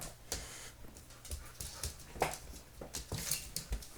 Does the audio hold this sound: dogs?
yes